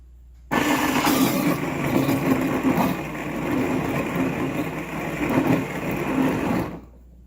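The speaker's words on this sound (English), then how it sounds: "When it first starts, the blade will spin for a little bit and then stop." The blade of a Tayama DJ-15S stainless steel soy milk maker starts abruptly and spins, grinding soaked soybeans with a loud, steady whirring grind for about six seconds before cutting off sharply into silence.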